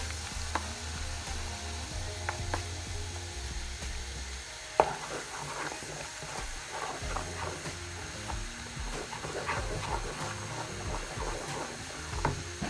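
Shrimp powder hits hot oil with garlic for Chinese chilli oil, setting off a loud crackling sizzle with scattered pops and a few utensil clinks, close and without talk.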